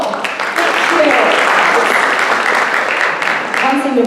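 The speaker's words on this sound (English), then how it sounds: "counseling department usually doesn't get many rounds of applause, so that was nice." Applause from an audience at a high school parent information meeting fills the room, a dense, steady patter of clapping hands sustained throughout at fairly loud level.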